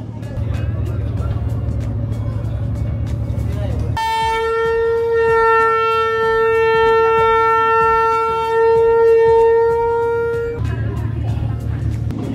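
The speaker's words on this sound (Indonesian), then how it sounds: "tadi sudah ada sirene berbunyi" A loud, steady ship's siren blasts for several seconds, a sustained harmonic tone rising over the rumble of idling engines.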